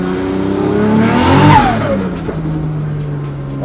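A Ford AU Falcon engine revs hard through a new exhaust and manifold, climbing to a loud peak around the midpoint, then easing into a steady lower drone as the car pulls away with a brief tyre chirp.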